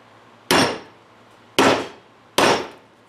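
Three sharp, loud hammer strikes drive a battery disconnect switch down onto a battery terminal, each evenly spaced about a second apart with a short ringing decay and no talking.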